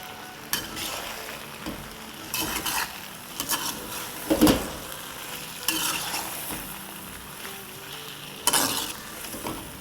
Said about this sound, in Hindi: और वेजिटेबल्स के साथ 1-2 मिनट फ्राई कर लेंगे।